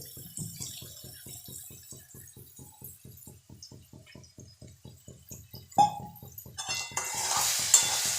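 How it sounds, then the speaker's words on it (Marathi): Onion frying in a kadai for kanda poha, with rapid, regular scraping strokes of stirring over a soft sizzle. A louder hissing burst swells near the end. "कढईतला कांदा आपण बघू शकता खूप छान प्रकारे शिजलेला आहे"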